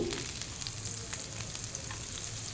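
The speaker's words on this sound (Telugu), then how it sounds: "అన్నిటిని బాగా వేయించుకోవాలి. మీడియం ఫ్లేమ్ మీదే వేయించుకోవాలి." Ginger, green chilli and curry leaves fry in hot oil over a medium flame, making a continuous close crackling sizzle with light stirring and no voices.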